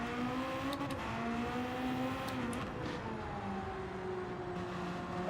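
A hypercar engine in the Gran Turismo 7 racing game holds a steady, fairly loud revving whine whose pitch rises and dips as the throttle changes, with no voices over it.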